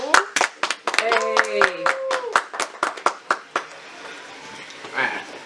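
A few people on a basement show clap in a quick, uneven burst of sharp, close slaps for about four seconds, with a voice calling out once, then fading into quieter room sound.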